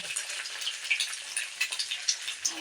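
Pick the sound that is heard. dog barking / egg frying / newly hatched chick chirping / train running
egg frying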